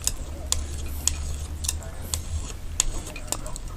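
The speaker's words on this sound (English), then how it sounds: "Let's do it with the old palette knife." A palette knife mixes brown and white paint on a palette, producing soft, steady scraping with sharp little clicks at irregular intervals, close and quiet.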